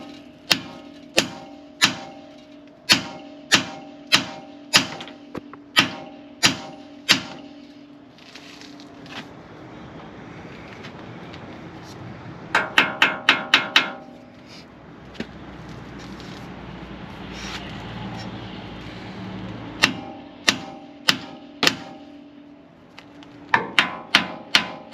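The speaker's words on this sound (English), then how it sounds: "we're going to strike the steering knuckle with the hammer" Sharp metallic hammer blows on a steel steering knuckle of a 1980-1996 Ford F150 ring out in bursts, some in steady series and some in rapid clusters, loud and close over low background noise.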